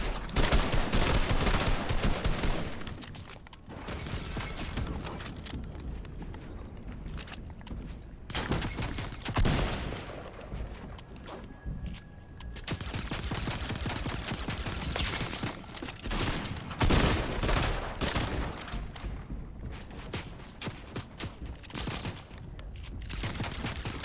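Sustained video game gunfire, dense bursts and rapid automatic shots running almost without pause, loud and close, with only a few short gaps between volleys.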